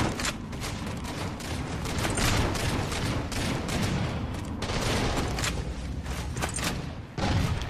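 Continuous gunfire in a Halo 4 Dominion multiplayer match, with steady automatic bursts and heavy impacts that keep going without break.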